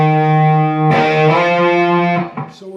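Distorted electric guitar octaves in a song: one sustained hit, then a second hit that slides upward and fades, played alone.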